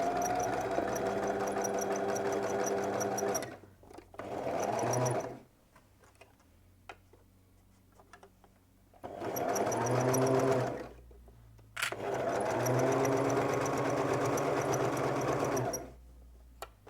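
A sewing machine stitches the last hem of a slit on a sweatshirt dress in close, loud bursts of rapid rattling, several runs of a few seconds each separated by quiet pauses.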